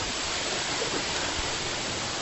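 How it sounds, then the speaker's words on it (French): Steady rushing water of a river near the Cascade des Quaires in France, a dense continuous wash of noise with no pauses, close and fairly loud. "c'est la rivière qui coule"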